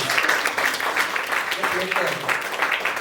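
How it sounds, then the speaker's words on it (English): Comedy show audience clapping in a steady, dense wash of applause, loud and close, with a comedian's voice talking over it. "Can we give Angie a round of applause?"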